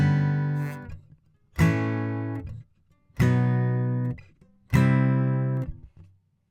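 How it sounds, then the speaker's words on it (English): An electric guitar strums one chord shape four times, moved to a different position on the neck each time, every chord ringing for about a second before being muted, evenly spaced, with no talking. "you can move these chord shapes all the way, all over the place"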